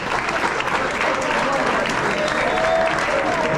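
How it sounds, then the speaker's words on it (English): Audience applause at a high school basketball banquet, a dense, even burst of clapping from a large crowd, loud and continuous for a few seconds. "Give them a round of applause."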